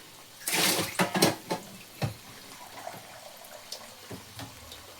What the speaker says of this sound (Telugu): నేను ఇక్కడ వచ్చేసి కొంచెం వాటర్ యాడ్ చేస్తున్నాను